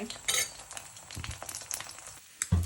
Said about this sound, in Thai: ทอดไข่เจียวหอมมาก